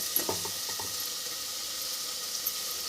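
Fish curry is gently stirred in a frying pan, a soft steady sizzle with a few light scraping strokes near the start, quiet and close, with no voices.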